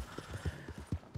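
Horse hooves in Red Dead Redemption II, a quick run of soft rhythmic clip-clop steps, faint and brief.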